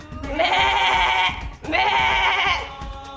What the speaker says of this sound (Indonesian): Tiba-tiba tubuh Ismail diganti dengan seekor kambing yang gemuk oleh malaikat Jibril